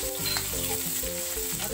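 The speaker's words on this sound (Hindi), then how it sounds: "देखिए दोस्तों, तेल हमारा गर्म हो चुका है। अब हम इसमें जीरा डालेंगे, लहसुन हल्की सी डाल देंगे" Cumin seeds and a little garlic crackle and sizzle in hot oil, a close, continuous frying hiss, with a droning hum underneath and no voices.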